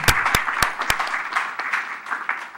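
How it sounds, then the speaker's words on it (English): Audience applause in a city council chamber during a public hearing, steady clapping of a modest crowd with a few louder close claps at the start, continuing evenly for a couple of seconds. "Folks, let's give each other a round of applause."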